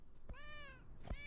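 A cat meows once in a video game demo, a clear drawn-out harmonic call between two short thumps, over a steady low background.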